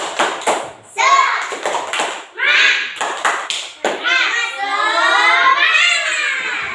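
Classroom of children doing a rhythmic clapping ice breaker, with sharp clap bursts in a patterned rhythm alternating with children's voices chanting along, the class joining in louder toward the end.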